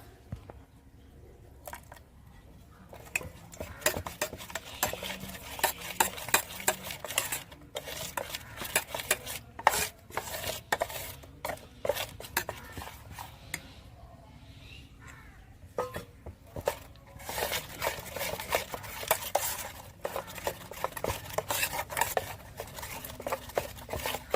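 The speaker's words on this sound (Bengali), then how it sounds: "গোলাটা আমি গুলে নিয়েছি" Gram flour batter being mixed with green food colouring in a bowl, a spoon clinking and scraping against the sides in quick irregular bursts, fairly close, with no talking.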